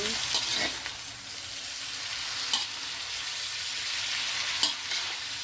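Pancit bihon guisado frying in a pan, a steady broad sizzle with three sharp clinks or stirs of a utensil against the pan, close and alone with no talking.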